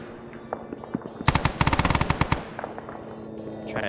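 Rapid automatic gunfire in the military game Arma 3, a few scattered shots leading into a loud sustained burst of close machine-gun fire lasting about a second, then fading into distant rumbling battle noise.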